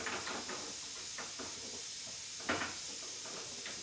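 Tempering sizzles as it is poured into cooked dal outdoors over a wood-fired chulha, a steady hiss with a sharper burst partway through, close and fairly quiet.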